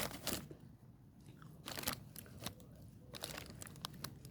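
Crunchy, wet chewing of a ripe tomato freshly picked in a home garden plot, close to the mouth, with several distinct bites and mastication bursts in an uneven rhythm and no talking.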